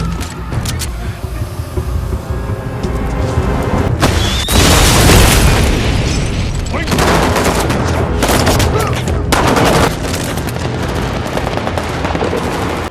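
Car explosion and gunfire in an action film about a terrorist attack: loud, dense booms and rapid bursts of shots fill the whole stretch, with heavy blasts around the middle and no speech over them.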